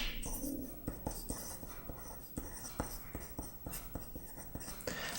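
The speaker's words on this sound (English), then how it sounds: "so I'm going to write that one out" A pen writes out a physics equation by hand. Quick, irregular tapping and scratching strokes run steadily for several seconds, heard close against a noisy background, with no talking.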